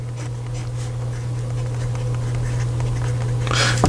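A Constellations 88 Plasma Demo fountain pen writing on paper, its nib scratching faintly and steadily beneath a constant low electrical hum, with no voices.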